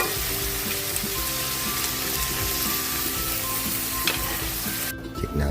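Bean sprouts sizzle and fry in a hot pan while being stirred, a steady close crackle that runs throughout and cuts off abruptly near the end.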